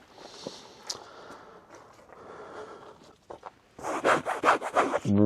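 Fabric soft cover of a Smittybuilt rooftop tent on a Jeep Gladiator being handled and folded, with soft rubbing and rustling, then a louder burst of rapid crinkly swishes and scrapes near the end.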